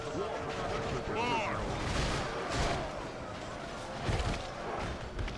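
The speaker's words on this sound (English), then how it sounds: "Organ guns are already just pounding away at us." Repeated heavy booms and cannon-like organ gun fire thud in a Warhammer video game battle, overlapping with crashes and rumbling, loud and dense throughout.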